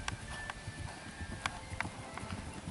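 A horse's hooves beat in a quick, regular clip-clop during a 130 cm show jumping round, heard faint and at a distance in an open arena.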